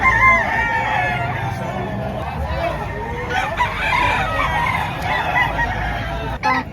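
Roosters crow repeatedly at a busy gamecock market in Padre Garcia, Batangas, with clucking fowl close by and voices of buyers and sellers talking over the steady crowd noise.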